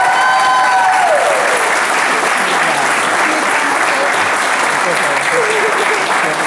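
Loud, steady applause from wedding guests for the bride at a ceremony at Luxmore Grand Estate, filling the whole stretch with dense clapping and some cheering, with a voice speaking briefly over it at the start.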